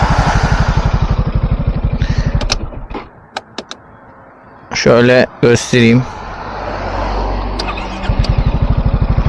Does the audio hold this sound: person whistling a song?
no